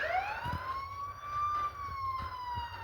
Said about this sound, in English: the loudest siren known to man that plays for any criminals who dare open the pause menu